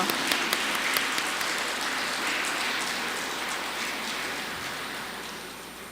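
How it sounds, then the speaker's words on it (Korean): Audience at a winter Advent lecture applauding each other in a church hall, a dense crackle of many hands clapping at moderate volume that slowly fades, with no one speaking. "옆 사람께 정말 칭찬하고 격려하는 의미로 박수 한번 쳐드리죠."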